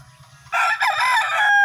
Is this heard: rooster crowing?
yes